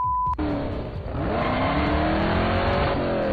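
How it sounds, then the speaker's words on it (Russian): A Marussia B2 race car in Minecraft drifting, its engine revving loud and close as a high tire squeal rises and holds steadily through the turn, preceded by a brief tone. "Офигеть, дрифт!"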